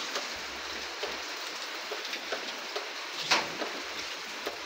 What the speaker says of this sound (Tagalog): Ayun o, maulan.